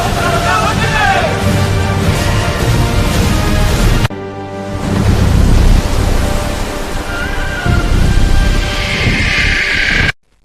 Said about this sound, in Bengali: সমুদ্র হঠাৎ উত্তাল হয়ে উঠল। ঢেউ আর ঝড় যেন একসাথে চিৎকার করে উঠল,